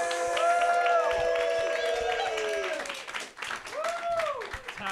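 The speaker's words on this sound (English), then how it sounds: "Start clapping right now for Talon Harris." A comedy club audience at a roast battle in New York claps and whoops for a comedian being brought up, a steady crowd noise under tonal music, dipping briefly and then picking up again.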